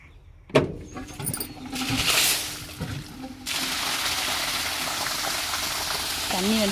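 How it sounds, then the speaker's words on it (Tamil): In a village garden, a few knocks and rustles lead to water bursting out about halfway through, then a steady loud rushing hiss that holds to the end. "தண்ணி வந்து குதிக்குது."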